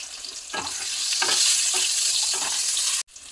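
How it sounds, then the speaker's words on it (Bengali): Cut potatoes fry in hot oil in a kadai, seasoned with salt and turmeric, giving a steady close sizzle with several stirring scrapes, before an abrupt drop near the end. "আলুগুলো ভালো করে ভেজে নেব"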